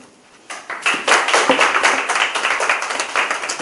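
High school students in a science classroom burst into applause after a brief quiet moment, a dense, steady patter of many hands clapping close by that continues to the end.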